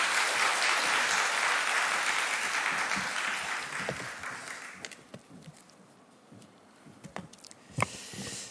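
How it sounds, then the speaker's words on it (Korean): A church congregation claps to welcome their pastor during a Sunday worship service, the dense applause loud at first and then fading out after about five seconds into a few scattered claps and small room noises. "우리 박수로 우리 목사님 환영하겠습니다."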